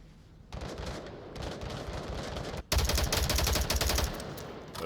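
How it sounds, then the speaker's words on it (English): Gunfire in an Onward VR competitive match: dense rapid bursts of shots, quieter at first and then louder and more intense in the second half. "Those shots certainly alert Glue, but Glue still not going to have an angle here"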